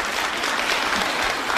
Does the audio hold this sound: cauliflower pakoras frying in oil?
no